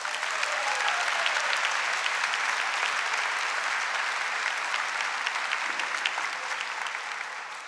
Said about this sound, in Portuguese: Pode aplaudir isso.